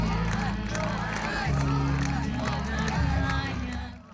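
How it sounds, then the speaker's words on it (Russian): Crowd greeting World War II veterans from across the republic with an ovation before a theatre, a broad roar of applause and cheering babble, steady and fairly loud, fading at the end. "ветеранов Великой Отечественной со всех районов республики встречают овациями"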